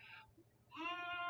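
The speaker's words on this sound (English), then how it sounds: "You can hear my baby face lamb outside." A lamb bleats outside near a house, two short wavering cries separated by a brief pause, fairly faint and heard through a window.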